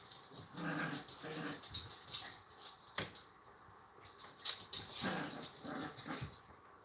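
Puppies growl, whimper and yip while wrestling over a steak plushie, a steady scuffle of close, overlapping canine growls with sharp yelps throughout.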